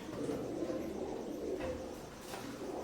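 KTM blood line Teddy pigeons coo softly in a few repeated low calls over a faint background murmur, close and unaccompanied by talk.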